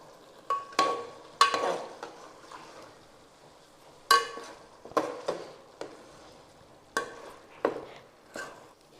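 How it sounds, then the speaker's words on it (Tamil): Turmeric, coriander powder and chilli powder being stirred and sautéed in a pan for stingray fish kulambu, with a series of sharp spoon-against-pan scrapes and clinks over a soft sizzle, no talking. "இதை போட்டு நல்லா வதக்கி விட்டுருவோம்."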